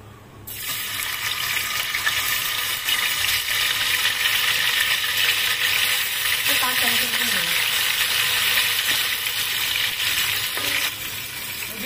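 Ginger garlic paste sizzles steadily in a hot pan for chicken chaap, a continuous loud hiss with faint clinks of a stirring spoon partway through.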